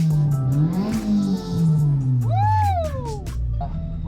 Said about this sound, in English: Hear the engine scream.